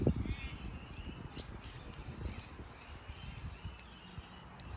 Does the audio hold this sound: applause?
no